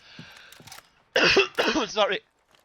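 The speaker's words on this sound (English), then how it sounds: "Sorry for the coughing." Two or three short, harsh coughs and throat clears come close together, preceded by faint clicks and soft noises.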